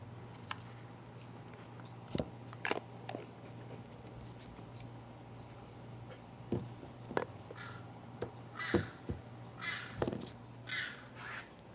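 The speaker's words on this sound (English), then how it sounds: "Holy Lord, what's that sound? Crow." A crow caws several times, distinct short calls at moderate distance over a quiet background hum, with a few faint clicks between them.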